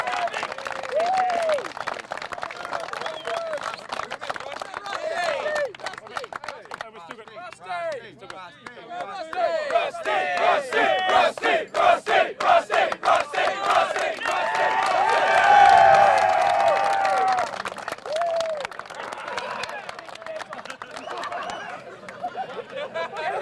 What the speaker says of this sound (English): And maybe we give a big round of applause for Big Dodd.